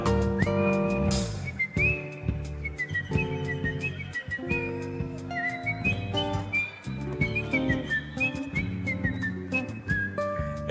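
Someone whistles a lively, clear folk melody in short phrases over instrumental accompaniment, with the whistled tune sitting high and prominent in the mix.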